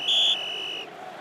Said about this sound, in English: The referee has blown the final whistle.